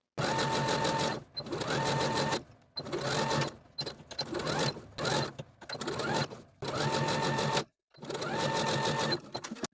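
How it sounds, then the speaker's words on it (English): Domestic sewing machine topstitching a T-shirt seam with a stretch stitch, running in steady loud bursts of a few seconds each, broken by brief stops, with no talking. "I'm going to sew from the front of the garment along the top edge of the bottom piece with about 1/8 or a 1/4 inch seam allowance using a stretch stitch"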